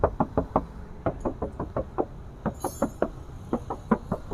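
Knuckle knocks on the metal body panels of a used 2017 Toyota car with manual transmission, G type, in a series of sharp, close raps in small irregular groups, with no talking.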